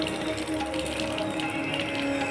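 Water runs steadily from a tap at a temple washing area, a continuous close splashing hiss with no pauses.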